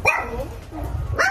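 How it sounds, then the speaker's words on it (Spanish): Dogs barking, with a couple of short, sharp barks and yips at the start and end over rumbling low background noise, fairly close and loud. "Los perritos no fallan, empiezan a ladrar antes"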